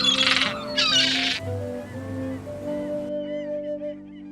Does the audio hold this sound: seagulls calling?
yes